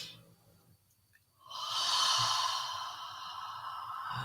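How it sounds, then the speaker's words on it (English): A deep, slow inhale during guided breathing, a long airy breath that swells and holds for a couple of seconds after a brief quiet pause, close and alone without talking. "So breathe again, inhale,"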